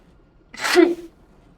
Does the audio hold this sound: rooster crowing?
no